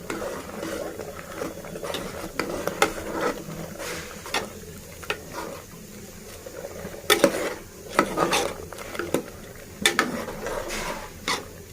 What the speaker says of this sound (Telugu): ఇప్పుడు మనం కారము, ధనియాల పొడి వేసాము. కలుపుకోవాలి.